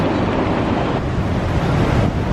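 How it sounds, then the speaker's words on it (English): Broad, steady roar of Niagara Falls in winter, with broken pieces of ice carried down in the rushing water, filling the scene at close range with constant wind buffeting the microphone and no voices. "It's like broken pieces of ice going down the falls."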